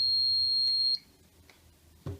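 A home intruder alarm buzzer sounds shrill and steady for about a second, then cuts off, leaving quiet room noise and a soft thump.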